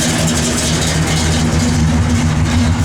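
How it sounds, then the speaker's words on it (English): A cammed 1966 Pontiac LeMans V8 engine idles with a loud, steady low rumble and a slightly lumpy, uneven throb, close by. "Car's cammed up a little bit, so it's got a good sound."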